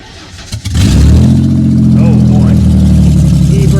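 A 1991 Mercury Cougar cranks and fires at about 0.8 s, then settles into a loud, steady rumble close by with a slight rev. Voices are heard over the engine.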